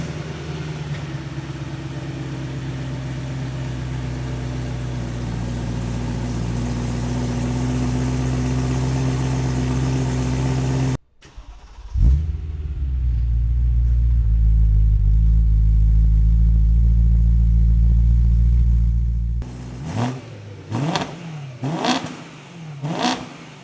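A BMW E92 M3 V8 fitted with a Remus axle-back exhaust idles with a deep steady burble, then holds a louder sustained rumble before a series of sharp throttle blips rev and fall back, close and with no talk.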